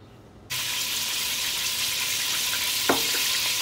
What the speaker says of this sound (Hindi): ऑयल फ्राई हो चुका है।